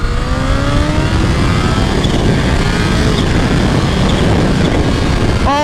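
An H2 motorcycle accelerates hard at full throttle, a loud, close, continuous engine roar mixed with heavy wind rush, with the engine pitch climbing briefly at the start and again at the end.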